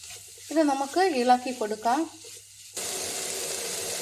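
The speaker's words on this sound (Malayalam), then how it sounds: "ഇനി ഇതിലേക്ക് ചതച്ച് വച്ചിരിക്കുന്ന മാങ്ങയും തേങ്ങയും കൂടി ഇടാം. ഇത് നമുക്ക് ഇളക്കി കൊടുക്കാം." Crushed green mango and coconut fry in a pan with a constant sizzle and scraping stir. The sound starts partway through and follows a short stretch of a person talking.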